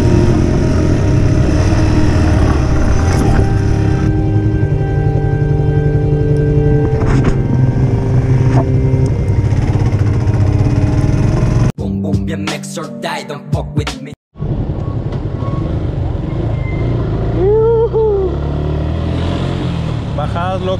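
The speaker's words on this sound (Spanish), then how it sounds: "Bajadas locas en moto sin manos." Motorcycle ridden fast down steep streets in a Guadalajara neighborhood with the rider's hands off the bars; a loud, close, continuous engine drone and wind rush fill the ride, broken by a brief dropout partway through.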